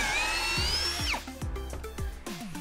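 A power drill whines at high speed, then bites into clamped wood drilling pocket screw holes, with repeated grinding thumps as the bit cuts, close and loud.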